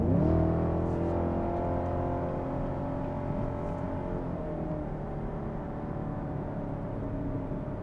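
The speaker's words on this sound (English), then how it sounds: "Man, that exhaust sounds nice, though." Exhaust of a 2024 Chevy Camaro 2SS at highway speed, a loud steady drone with harmonics that climb briefly at the start and then hold level, heard from inside the cabin with no talking.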